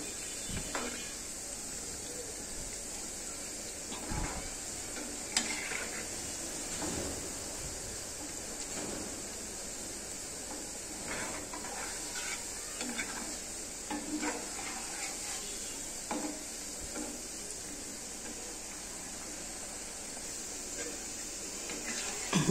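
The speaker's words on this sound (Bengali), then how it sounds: "এই যে পোড়া বানাচ্ছি তালের বড়া, আর একটু লাল করব।" Palm fritters (taler bora) frying in hot oil, a steady sizzle with occasional stirring clatter and scrapes running throughout, with voices talking over it.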